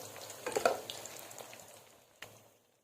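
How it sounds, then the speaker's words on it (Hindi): Puris deep frying in hot oil for a breakfast of halwa puri, giving a soft crackling sizzle with a few louder bursts early on that fade toward quiet, plus a brief clink near the end. "ये देखें, पूड़ियाँ मेरी बहुत अच्छी से फ्राई हो चुकी हैं"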